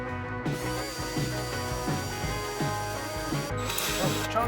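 A power drill grinds steadily through plastic on a farm combine repair, a continuous whine broken by repeated rhythmic catches and clunks roughly every half second, fairly close and without talking.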